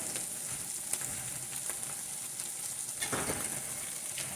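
Sauerkraut and sausage sizzle steadily in a skillet with green onions added, a close continuous frying crackle with a few brief stirring scrapes and no talking.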